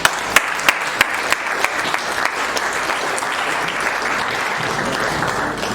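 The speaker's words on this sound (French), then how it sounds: "Applaudir très fort." A ceremony crowd in Kinshasa applauds loudly, with a few sharp, distinct claps at the start before the sound merges into a steady, dense roar of clapping.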